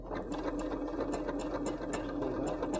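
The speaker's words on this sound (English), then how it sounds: "So I'm going to slow the machine down a little bit." A sewing machine stitching an embroidered mat made from scrap denim, heard as a steady rapid mechanical whir and needle clatter, close and continuous with no talking.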